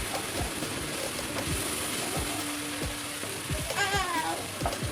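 Turmeric-and-salt vegetable paste for tawa pulao fries on a hot tawa, a steady close sizzle with faint crackles and brief clinks of stirring throughout.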